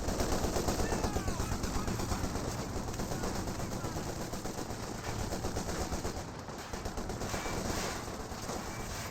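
Infiltration commandos open fire in Company of Heroes 2, with rapid, sustained machine-gun bursts and scattered shots rattling on throughout under a commentator's voice.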